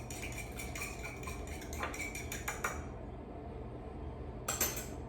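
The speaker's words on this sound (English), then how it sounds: "I'm just going to whisk the egg into the fork" A fork whisks an egg in a bowl for an eggplant Parmesan coating, giving quick repeated clinks and taps against the dish, with a denser burst in the first three seconds and a brief final flurry.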